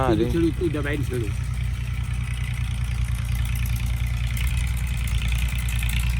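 A farm tractor engine runs at a steady low idle throughout, with a constant deep rumble under people talking nearby.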